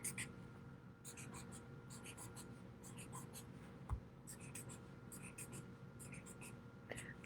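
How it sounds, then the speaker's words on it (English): A pen drawing windows on a paper town map, with soft rapid scratching strokes in short bursts and brief pauses, quiet and close. "And I'll write police. And draw a bunch of windows."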